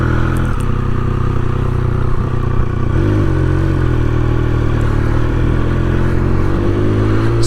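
A 2021 Triumph Speed Triple RS motorcycle engine runs steadily while riding, a loud, close, continuous drone with slight shifts in pitch and no speech over it.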